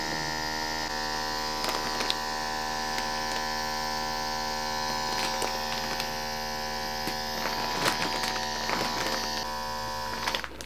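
An As Seen on TV air vacuum device runs with a steady electric hum and whine throughout, joined by faint scattered clicks and rattles, close and constant.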